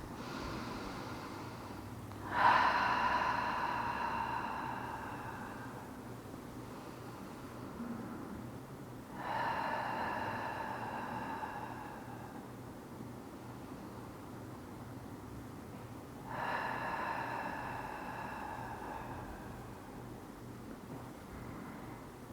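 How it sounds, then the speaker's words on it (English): Three slow, deep breaths during a yoga stretching session, each a soft airy exhale rising and fading, spaced about seven seconds apart in an otherwise quiet room. "Taking some deep cleansing breaths, inhaling through the nose, exhaling through the mouth."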